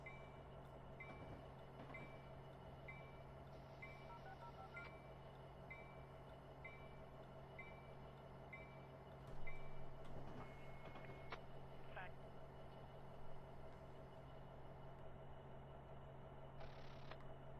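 A train rolls through Cajon Pass in a train simulator game, making a steady low rumble and drone with a few short electronic beeps over it.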